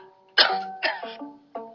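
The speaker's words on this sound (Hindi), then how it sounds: "वो खांसते हुए बोला" Three short, harsh coughs in quick succession, close and fairly loud, each a rough voiced burst with brief pauses between.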